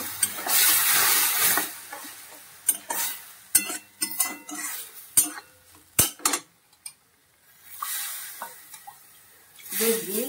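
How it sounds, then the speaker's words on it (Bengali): Milk is stirred into a pan on a gas stove over low flame, with a soft sizzle and bubbling, then repeated sharp scrapes and knocks of a spoon against the pan, intermittent and close, with someone speaking in brief stretches. "দুধটা দিয়ে নাড়তে থাকি, নাহলে জড়ো হয়ে যাবে।"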